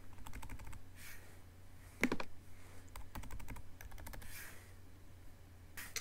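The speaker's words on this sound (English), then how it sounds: "you can even use your arrow keys for a little more precision." Keys tapped on a computer keyboard, including the arrow keys, during digital layout work: quiet close clicks in quick bursts, with short gaps between them.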